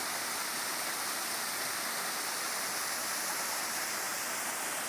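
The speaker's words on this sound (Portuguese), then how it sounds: "Aqui tem uma cachoeira." A forest waterfall in Rio Grande do Sul, Brazil, giving a continuous broadband rush of falling water, steady and fairly close with no pauses.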